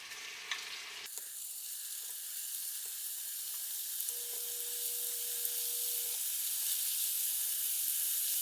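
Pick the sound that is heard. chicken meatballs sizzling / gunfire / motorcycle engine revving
chicken meatballs sizzling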